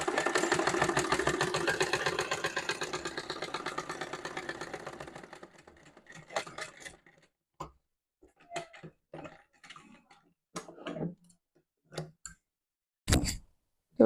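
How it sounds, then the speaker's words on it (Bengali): A sewing machine stitches the side seam of a dress in a fast steady mechanical chatter for several seconds, then stops, leaving scattered clicks and taps of fabric handling. "আমি প্রথমে জামার সাইডটা সেলাই করে নিচ্ছি"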